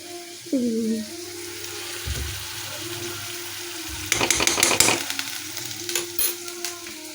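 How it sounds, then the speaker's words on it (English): Onion and garlic paste frying in a pan, a steady close sizzle with loud stirring and scraping bursts partway through and again near the end. "Adding some onion, some garlic paste."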